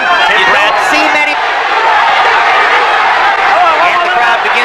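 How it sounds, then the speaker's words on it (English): Boxing arena crowd at the Bradley versus Provodnikov fight, a loud, dense roar of many voices that swells continuously, with rhythmic chanting of the fighter's name blended into the din and a commentator faintly under it. "And the crowd begins to chant, Bradley, Bradley."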